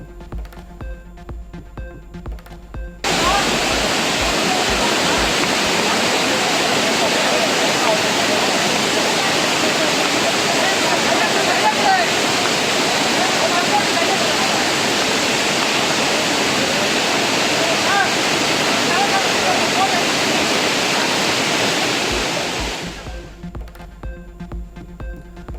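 Flash-flood torrent in a stream at Chinnur hill village, Kodaikanal, roars as a loud, dense, unbroken rush of water for about twenty seconds, starting abruptly and fading out, with quieter stretches on either side.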